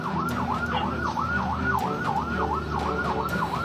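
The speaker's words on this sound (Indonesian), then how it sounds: "Meski petugas menyalakan sirena, tetapi mobil mewah tersebut tetap melaju di depan damkar." A fire truck siren wails in rapid repeated up-and-down cycles on a Bali street, loud and close, over steady engine and traffic rumble.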